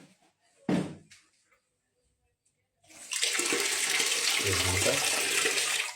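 A bathroom shower starts running after a brief thump and a short spoken word, then sprays steadily and loudly, a broad rushing hiss of water that continues to the end.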